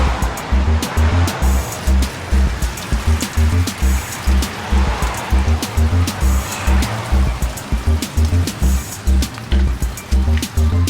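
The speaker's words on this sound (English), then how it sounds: "I have some gas I'm going to flush it out with" Gasoline sloshing and splashing inside a rusty gas tank being flushed with old fuel, a steady churning liquid wash with rhythmic low surges throughout, loud and close.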